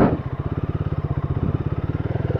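A Yamaha R15 motorcycle rides an off-road trail toward a waterfall, its engine close and throbbing in a steady rapid pulse throughout, with no talking.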